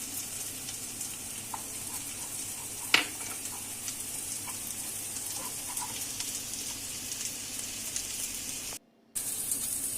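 Butter and flour cooking in a pan for a béchamel sauce give a steady, soft sizzle and crackle. It runs evenly throughout, with one brief louder scrape near the start and a short drop near the end.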